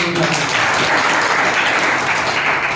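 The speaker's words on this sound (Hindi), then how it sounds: "मैं आप सब लोगों को कहता हूँ जोरदार तालियां होनी चाहिए इससे" Villagers gathered at an outdoor program clap loudly on cue, a brief dense burst of applause that stays strong and even across the moment.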